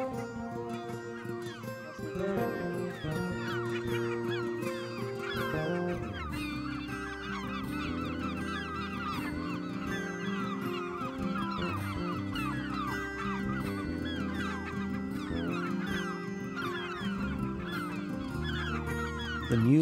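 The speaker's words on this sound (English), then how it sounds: "The herring gull is one of the larger, more prolific gulls found all around the British Isles." Herring gulls at a busy British Isles breeding colony give a steady chorus of honking, yelping calls, many birds overlapping at moderate distance throughout.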